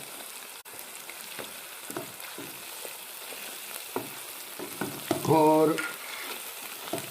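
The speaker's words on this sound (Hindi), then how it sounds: "ये फ्राई हो रहा है" Cumin powder fries with onions in a pot for a bottle gourd chicken curry, giving a close continuous sizzle with soft stirring scrapes; a brief spoken word comes near the end.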